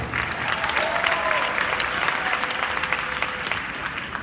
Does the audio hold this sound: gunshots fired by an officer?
no